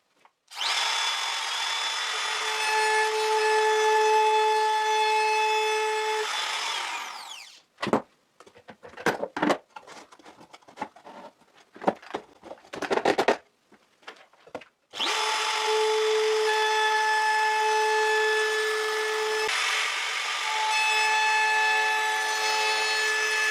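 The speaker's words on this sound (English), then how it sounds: "I'm going to use this sheet to guide the bearing of the flush trim router bit" A power router with a flush trim bit whines steadily while cutting a rabbet in wood, stops for several seconds of scraping and knocking, then whines again, loud and close.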